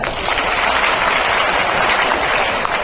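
Audience clapping at a school Tagore Jayanti celebration, a dense, steady wash of applause filling the room at even loudness throughout, with no talk over it.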